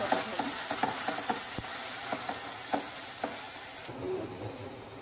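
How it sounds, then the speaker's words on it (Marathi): Masala gravy paste is stirred and fried in a pan with a soft continuous sizzle, punctuated by a rhythmic series of scraping spoon strokes against the metal, close and fairly quiet. "तर आपण आता व्यवस्थित मिक्स करून घेऊ."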